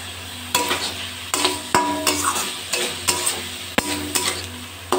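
Banana stem (thor) being stir-fried with sugar in a pan, with a steady sizzle broken by repeated sharp scrapes and clinks of a spatula against the metal, close and clear, with no talking.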